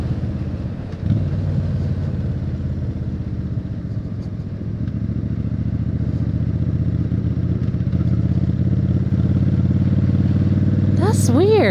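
Motorcycle engine running steadily near idle with a low, even rumble that continues throughout, loud and close. A few brief rising tones come in at the very end.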